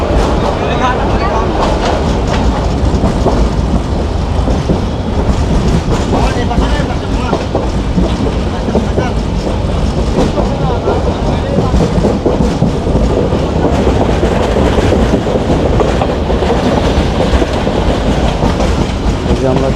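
A train rumbles loudly and continuously on the rails, with a rhythmic clatter of wheels and a deep, steady roar.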